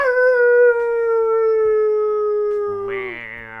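Several people imitate a wolf pack howling at the moon, voices holding long sustained howls together that slowly fall in pitch, then shifting into higher, wavering yips near the end, close and fairly loud.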